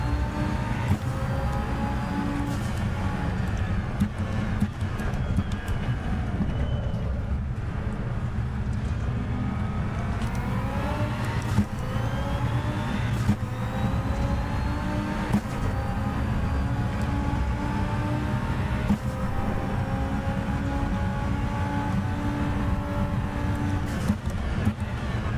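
A loud race car engine in the Assetto Corsa EVO racing game holds a steady, droning roar throughout, with pitch sweeping up and down through gear changes and cornering, close and continuous, with no talk.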